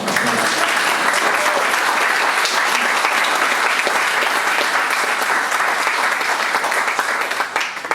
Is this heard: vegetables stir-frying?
no